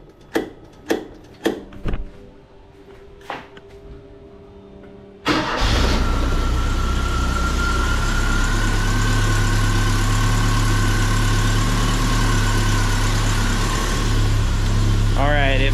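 Ford Courier pickup with a one-wire alternator swap: a few clicks and clunks come first, then the engine cranks, catches and settles into a loud, steady idle close to the microphone.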